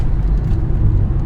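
A VW Crafter van with a converted M57 engine and 8HP70 gearbox accelerates gently at light throttle, giving a deep, steady, close engine rumble heard from inside the cabin with no talking.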